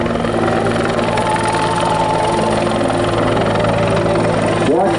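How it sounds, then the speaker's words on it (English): A CH-146 Griffon utility helicopter flies at the 2011 Great Lakes International Airshow, a continuous loud rotor and turbine drone with a steady throb, while a commentator talks over it. "the CH-146 Griffon helicopter to get them there and back safely"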